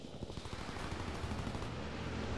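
Dense, continuous automatic gunfire from a Call of Duty WWII multiplayer match, rapid overlapping shots forming a steady, loud fusillade with no pauses across the whole stretch.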